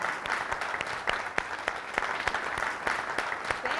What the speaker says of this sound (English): a round of applause for everybody who is here for the first time